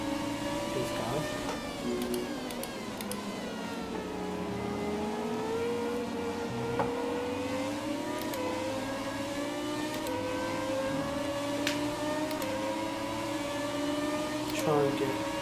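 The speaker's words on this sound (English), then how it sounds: "The sound of these cars are amazing." Formula One car engines in the F1 2017 video game, a steady high engine drone with pitch rising and falling through gear changes, running continuously at a constant level throughout.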